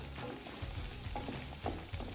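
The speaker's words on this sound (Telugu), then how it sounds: "సో అది ఫ్రై చేస్తున్నా." Green chilli chicken frying in a pan over medium flame, a low close sizzle with soft scraping stirs every few moments, no voices.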